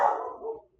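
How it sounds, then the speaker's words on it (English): A single short dog bark close by indoors, aimed at people walking around outside, sharp at the onset and fading quickly into silence. "Sorry about the dog. Is barking for outside people walking around."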